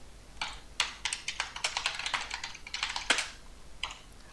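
Rapid keystrokes on a computer keyboard as a gift message is typed into an online shop form, a close, crisp burst of clicks in quick irregular runs with a short pause near the end.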